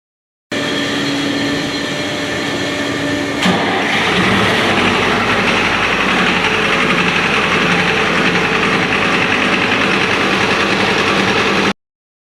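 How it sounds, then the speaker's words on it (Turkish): A small ship's engines start up, turning from a steady tonal hum into a loud, rough, even rumble that runs continuously for about eight seconds with no voices. "Motorlar çalıştı."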